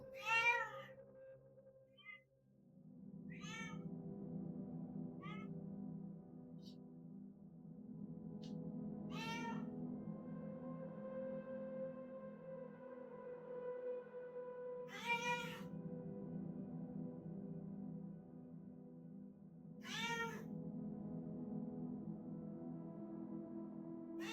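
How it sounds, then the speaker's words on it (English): A cat meows repeatedly from inside a household storage closet, several drawn-out, clear calls spaced a few seconds apart over a steady low hum, fairly close and loud. "A man by the name Leo from Argentina woke up at 2 a.m. to the sounds of a cat somewhere inside his house"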